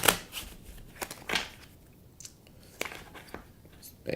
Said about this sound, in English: So we're going to give these a quick shuffle.